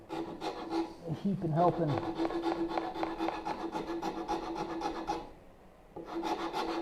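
A hand rasp shapes a wooden bow saw frame with rapid, rhythmic back-and-forth strokes, close and loud, pausing briefly before resuming; someone speaks a few words over the scraping.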